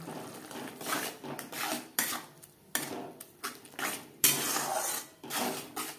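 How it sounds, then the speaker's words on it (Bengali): Salt, turmeric and spices are stirred into onion in a pan, a spoon scraping and clinking against the metal in repeated rhythmic strokes, close and fairly soft, with a sharper knock partway through. "লবণ হলুদ মশলা ও পেঁয়াজের সাথে বেশ ভালো করে মিক্সড করে দেব"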